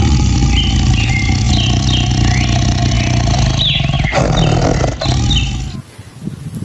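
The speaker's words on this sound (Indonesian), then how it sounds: "yang ini seekor macan" A cartoon tiger lets out a loud, sustained roar that rumbles on for several seconds amid playful whooshing and sliding sound effects, then cuts off abruptly near the end.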